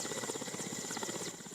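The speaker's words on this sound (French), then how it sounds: "C'est exactement à 17h25 que l'hélicoptère la transportant atterrit à l'aérodrome de la capitale du Ourodougou." A helicopter lands at the aerodrome in Séguéla, its rotor chopping in a fast, even pulse over a steady engine drone, moderately distant and heard without talk.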